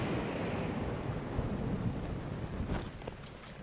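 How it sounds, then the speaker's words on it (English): Thunderstorm in the video game The Legend of Zelda: Breath of the Wild, with steady rain and wind noise rumbling continuously at an even, moderately loud level and no voices. "It's thunderstorming."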